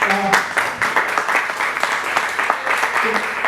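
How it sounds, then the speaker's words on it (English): A crowd at a Web3 onboarding panel claps for a startup's organizers, with a steady wash of applause running throughout and a voice talking over it. "And just round of applause to"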